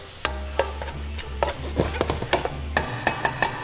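Pasta tossed with seasoning in a pan gives a series of sharp scraping clatters and soft sizzles in an irregular rhythm, close and clear with no talking.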